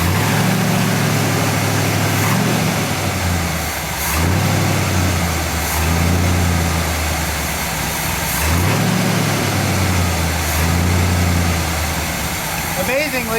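A 1959 GMC truck engine runs lean, loud and close, surging and sagging in uneven revs as it struggles to keep running, with voices talking over it.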